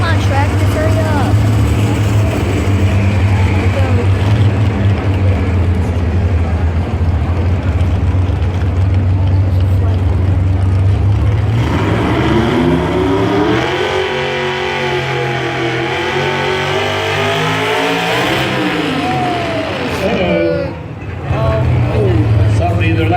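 A pulling truck's engine roars loud and continuous at a truck pull event, then its pitch swoops up and down as the drivetrain slips out of gear, with crowd voices and talk underneath.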